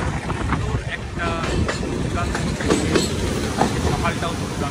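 Sealdah–Jalpaiguri Road Humsafar Express crossing the Farakka bridge, heard from on board as a loud, steady rumble with rhythmic clickety-clack of wheels over rail joints and voices in the background.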